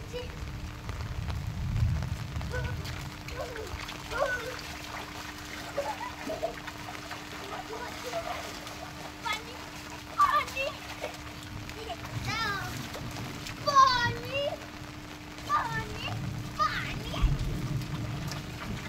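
Children bathing and playing outdoors in the rain, with rain pattering and water splashing while kids' voices call and squeal throughout and adults talk nearby.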